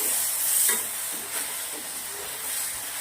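A spicy eggplant batter mixture is stirred over heat: a steady hissing sizzle dominates, with faint soft scrapes of the spoon underneath and no voices.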